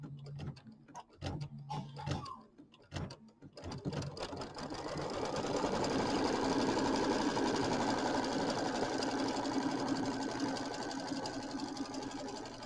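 Embroidery machine stitching a tack-down line on fabric, a fast, steady mechanical whirring and rapid needle clatter that starts after a few scattered clicks and thumps, then runs continuously at close range.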